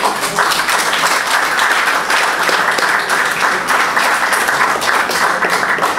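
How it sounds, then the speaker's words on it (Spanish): Applause from an audience at a tribute event honoring a poet, steady dense clapping that fills the whole stretch at close, loud level with no talking over it. "Vamos a brindarle un cariñoso aplauso a Margot Palomino, por favor."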